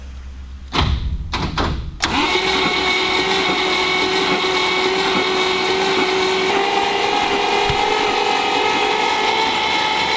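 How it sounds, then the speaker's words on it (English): Leyland P76 V8 engine cranking over to build oil pressure, with a few clunks at the start and then a steady, continuous mechanical whir from the starter, loud and close. "We're cranking the car to get oil pressure up"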